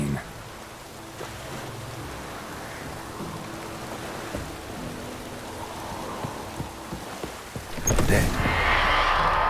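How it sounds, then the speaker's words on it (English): Steady rain falls in The Witcher 3 as a continuous moderate patter. Faint talk can be heard beneath it, and near the end a louder burst of noise joins in. "Looks like rain."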